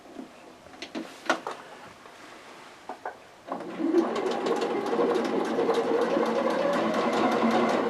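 Sewing machine stitching around the seams of a fabric wristlet, preceded by a few clicks and handling knocks, then a steady, fast mechanical whirr running continuously to the end.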